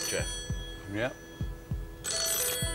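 A telephone rings in short repeated bursts on the Deal or No Deal game show, with a low throbbing pulse underneath and a couple of brief spoken words over it.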